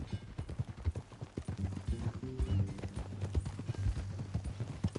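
Horse hooves clip-clop steadily at a walking pace in Red Dead Redemption 2, fairly faint and continuous, with a short burst of game music partway through.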